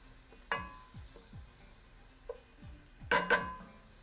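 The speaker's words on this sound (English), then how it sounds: "this soffritto, in my opinion, it's done. It has a nice sizzle to it." A soffritto sizzles softly in a pan, a low steady crackle broken by a few clinks and taps of utensils against the cookware.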